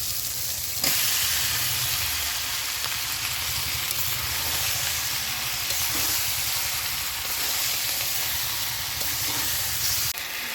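Taro and potatoes tipped into spice paste fried with chui jhal sizzle loudly and steadily at close range, a dense hissing fry with a few brief clatters, no voices.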